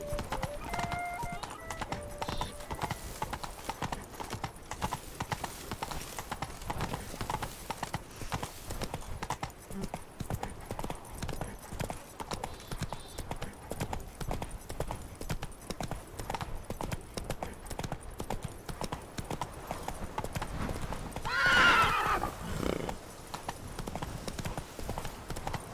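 Horse hooves clip-clop at a steady galloping rhythm in the Witcher 3 video game, continuous throughout. Near the end there is a brief, louder swell that may be a whinny.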